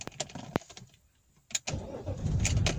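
A BMW E34 525tds diesel engine cranks and catches after long storage, clicks and key sounds first, then a short crank and a steady low rumble as it settles into idle, heard close inside the car.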